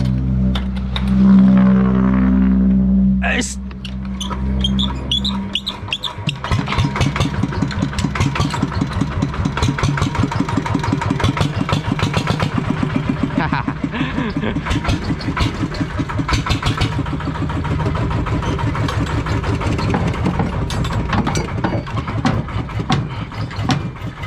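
Car engine at a launch test, a loud steady drone that abruptly gives way to a rough, rapidly pulsing engine clatter that continues strongly to the end, with no talk over it.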